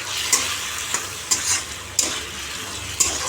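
Egg curry with onion and green chili cooking in a pan gives a steady oily sizzle, broken by regular scrapes and knocks of a spoon stirring about every half second.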